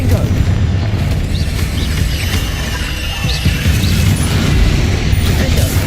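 Confringo fire-blast spells bursting in rapid succession during a Hogwarts Legacy duel, a dense, continuous rumble of booms and crashes with a voice shouting spell names over the din.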